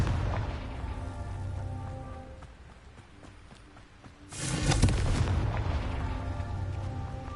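A Confringo fire spell goes off in a Harry Potter video game: a sudden deep explosive boom midway through, following a rumbling, busy game soundscape, with the blast's roar lingering loud afterward.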